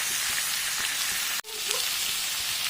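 Fried potatoes and boiled jackfruit sautéing with turmeric in hot oil, a steady close sizzle that breaks off for a moment and then goes on with light stirring, with no voices.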